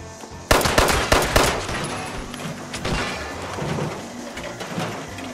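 Gunfire in the Fallout 76 video game: a sudden loud burst of rapid shots near the start, then a few scattered later shots fading into background ambience.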